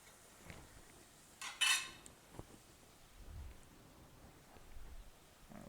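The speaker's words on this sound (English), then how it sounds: "we're using our bench scraper. Makes it real easy to get everything off" A bench scraper sweeps chopped vegetables for a King Ranch casserole off a cutting board and into a pan, giving a brief bright metallic scrape and clatter, then a few soft knocks and faint sizzling in a quiet kitchen.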